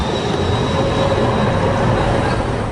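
A tram in Potsdam rumbles past at close range, a loud sustained rail drone with a faint thin squeal riding on top, steady throughout with no speech.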